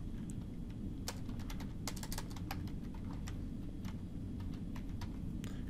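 Quick, light clicks of a computer keyboard while renaming a group in SketchUp, with a short burst of keystrokes over a steady low hum.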